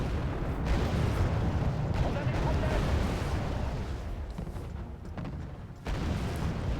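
Artillery fire rumbles in Wargame Red Dragon during a Second Korean War campaign battle, a dense, continuous roll of heavy booms that stays loud throughout, with someone talking over it.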